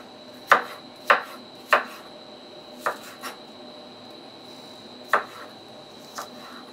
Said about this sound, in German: Die Paprikahälften leicht diagonal schneiden